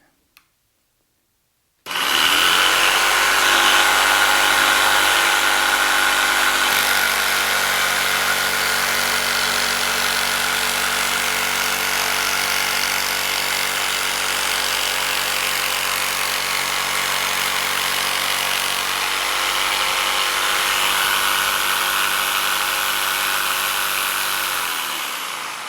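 A jigsaw cuts a wooden insert for a table mount, starting abruptly after a click and buzzing steadily and loudly for over twenty seconds before winding down at the end.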